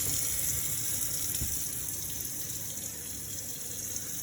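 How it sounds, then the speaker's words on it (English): Hot water runs from a kitchen sink tap in a one-bedroom London flat, a steady close hissing gush that continues evenly without pause and without talking. "Sink, check the hot water."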